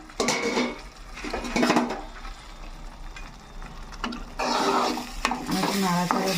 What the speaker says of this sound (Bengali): এবার আমি ঢাকনাটা খুলে দিলাম